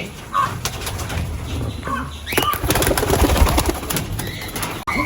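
Homing pigeons coo and flutter nearby in a busy, reverberant loft, with occasional wing flaps and shuffling over a steady background murmur.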